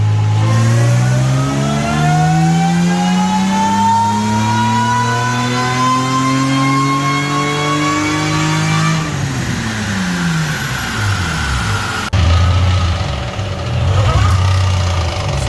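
Nissan hooptie engine revving hard on a dyno with unhealthy noises from the motor: a loud, close, rising engine note that climbs steadily, drops off with rough clatter, then roars again at the end.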